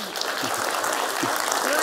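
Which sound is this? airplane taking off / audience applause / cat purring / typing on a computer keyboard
audience applause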